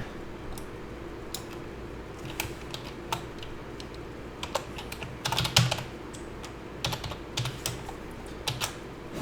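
Steady typing on a computer keyboard while writing Java exception-handling code, a close run of quick key clicks with a denser flurry of keystrokes partway through.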